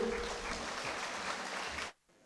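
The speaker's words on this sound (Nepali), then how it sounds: "जोरदार तालीको साथ हामी स्टेजमा उहाँलाई स्वागत गरौँ" An audience claps steadily in a dense burst at a corporate anniversary event to welcome a speaker to the stage, then the applause cuts off abruptly.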